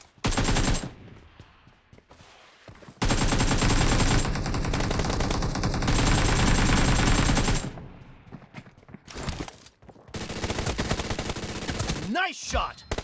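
Loud bursts of automatic gunfire and rapid shots ring out during a BGMI team deathmatch video game match, with short pauses between volleys.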